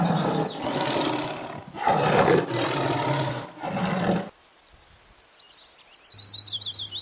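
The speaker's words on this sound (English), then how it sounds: "T for tiger. T for tiger." A tiger roars in several loud, rough bursts up close, then falls silent before a short run of chirping bird-like calls and a rhythmic pulsing tone close it out.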